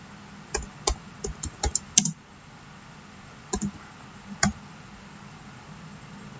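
Several sharp keyboard clicks in short bursts with pauses between them, typing on a computer keyboard at moderate distance against a soft hiss, with no talk.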